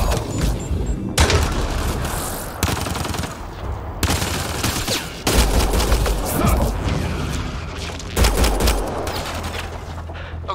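Dense gunfire rattles through a firefight in the video game Mass Effect Andromeda: loud, continuous automatic bursts with heavy booming impacts, broken by brief cuts between volleys.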